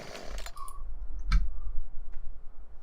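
Computer keyboard and mouse clicks come during a farming game session, a few close, dry clicks spread out with a brief louder tap in the middle, over quiet game background.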